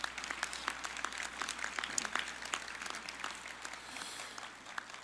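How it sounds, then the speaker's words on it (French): A graduation ceremony audience at UQO in Gatineau applauds: dense, steady clapping from many hands, fairly distant and moderately quiet, holding evenly throughout without voices. "Encore une fois, une bonne main d'applaudissements pour elles et pour eux."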